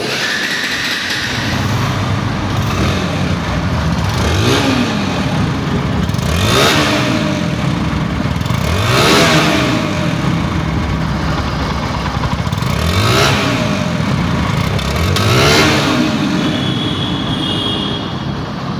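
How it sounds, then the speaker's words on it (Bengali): A Bajaj Pulsar NS 160 motorcycle with a 160 cc engine runs close by, idling loudly and steadily with a throbbing rhythm and repeated swells as it is revved several times, heard alone without talk. "বাইকটা কিন্তু স্টার্ট অবস্থায় আছে এই বাইকটার সাউন্ড কোয়ালিটি এবং ইঞ্জিন কোয়ালিটি দুইটাই লিখিত আকারে দিব"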